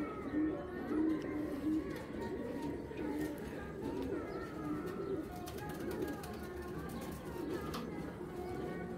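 Soft, low cooing from racing pigeons of a club racing line rises and falls across the stretch, heard at moderate distance amid faint chirps and room background.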